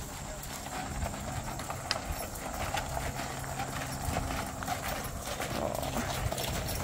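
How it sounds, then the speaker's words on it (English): Draft horse hooves clip-clop in a steady rhythm on pavement at a farm heritage festival, close by, with faint background noise and a few quiet voices. "Draft horses."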